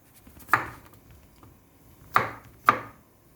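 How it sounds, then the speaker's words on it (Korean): A knife chops raw meat finely on a board: three sharp, close chops, one alone and then a quick pair, with quiet pauses between. "아주 잘게 썰어야 돼요"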